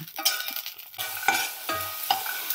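Green peas fry in a pan while being stirred, sharp scraping and rattling strokes over a light sizzle, three or four distinct stirs in close succession, with no voices.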